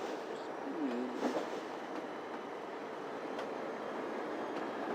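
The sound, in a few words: D&H train with PA-1 locomotives in Trainz 2019 video game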